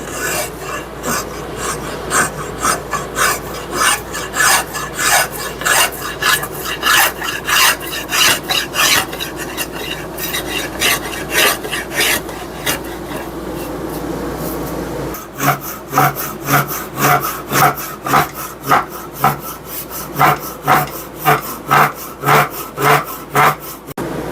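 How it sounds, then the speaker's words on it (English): Steady rhythmic rasping as a coarse rasp scrapes back and forth across a wooden axe handle, strokes regular and close, briefly pausing then resuming at a quicker pace. "That's going to take a lot of filing and sanding."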